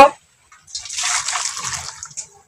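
Boiled jute leaves with their liquid pour out of a kadai in a short, close splashing gush lasting about a second and a half after a brief knock.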